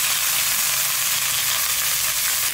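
Koi fish and porul flowers fry in hot oil in a pan, a loud continuous sizzle and hiss close by with no voices.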